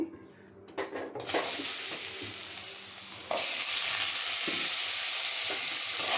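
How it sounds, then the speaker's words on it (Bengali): Potatoes fry in hot oil for a jackfruit-seed vegetable curry. The loud, close, dense sizzle swells sharply as they go in, after a few clatters of a utensil against the pan. "এরপরে আলু দেব"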